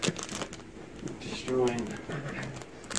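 A foil Pokémon card pack is torn open by hand, producing crinkling and ripping bursts over about three seconds, with someone talking over it.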